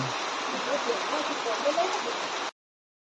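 Steady rain hissing outdoors at a crowded Ramapir temple fair, a continuous broadband wash with faint voices murmuring underneath, cutting off abruptly.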